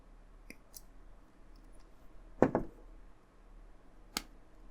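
Plastic model kit parts for a Terminator build are snipped off a sprue, a few sharp, isolated clicks spaced seconds apart against a quiet background hum.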